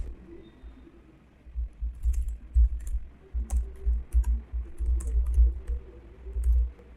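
Computer keyboard being typed on while writing C++ code, with irregular bursts of soft keystrokes and clicks that grow denser after the first second and continue steadily up close, no voices.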